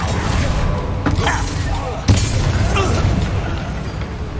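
Fiery Incendio spell blast cast in combat in Hogwarts Legacy, inside a goblin mine: a sharp boom bursts out over a continuous rumbling battle din, with characters' voices heard around it.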